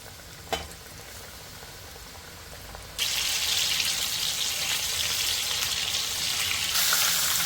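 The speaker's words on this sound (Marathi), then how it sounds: "मशरूम असे लालसर होईपर्यंत तळून घ्या अशा पद्धतीनं आपण सर्व मशरूम तळून घेऊयात" Breadcrumb-coated mushrooms frying in hot oil, a steady loud sizzle that starts abruptly after a quiet moment with a brief clink, then holds evenly to the end.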